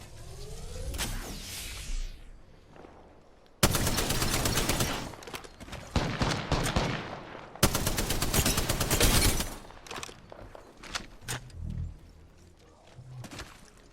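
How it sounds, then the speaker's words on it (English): Gunfire in the battle royale game Apex Legends, rapid automatic bursts tearing through in two long loud stretches, with scattered single shots and quieter game sounds between them. "here comes a very lucky massive shot"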